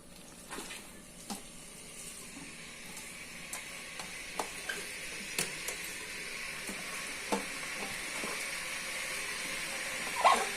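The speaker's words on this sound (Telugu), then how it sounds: "ఇప్పుడు ఈ క్లీన్ చేసి పెట్టుకున్నటువంటి బోటి ముక్కల్ని ఇందులో వేస్తున్నాము" Cleaned ram gizzard pieces sizzling in hot oil, a steady frying hiss with occasional clinks of a stirring utensil against the pan, close and fairly quiet.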